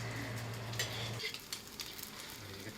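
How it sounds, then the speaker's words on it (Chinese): Eggs frying one at a time in a pan with ginger, made as a topping for a home-cooked noodle dish with minced pork sauce, giving a steady close sizzle with a low hum under part of it. "还在煎蛋呢。"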